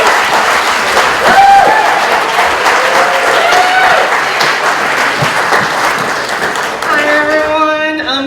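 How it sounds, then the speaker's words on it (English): Audience at a surf film festival closing night applauds festival programmer Sarah Fang, sustained loud clapping from a crowd throughout, with a few whoops and some voices mixed in and a brief musical tone near the end. "give a big round of applause to Sarah"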